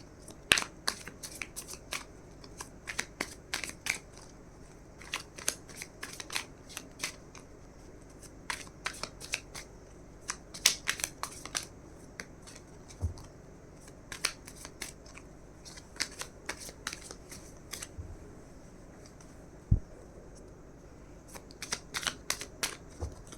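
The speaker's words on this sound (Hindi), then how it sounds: "एक सेकेंड में कार्ड्स निकाल रही हूँ।" Tarot cards are shuffled and drawn from a deck, producing repeated crisp riffling bursts and sharp flicks in irregular clusters, close and quiet, with no talking.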